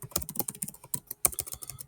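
Quick, uneven bursts of keystrokes on a computer keyboard, crisp clicks close by in short flurries with brief pauses between, no voices.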